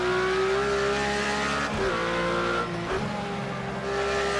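A Porsche lapping the Nürburgring Nordschleife holds a loud, steady engine drone close up, with two brief dips in pitch as it shifts or brakes.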